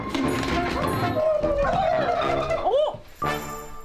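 Turkeys on a chicken farm let out loud, warbling gobbles from close by, the calls rising and falling in a rapid chatter that breaks off briefly near the end and then starts again.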